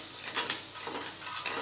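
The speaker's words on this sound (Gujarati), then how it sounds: "મસાલા પેસ્ટને તેલમાં સાતળી દઈશું" A steady, soft sizzle of masala paste made from raw tomato, sautéing in oil over low heat, with faint scraping of a spoon stirring it, close and without voices.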